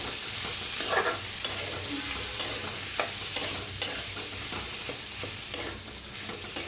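Potato bhaji for bread patties is stirred in a sizzling pan, giving a steady fry hiss broken by a dozen or so sharp scraping taps of the spoon against the pan.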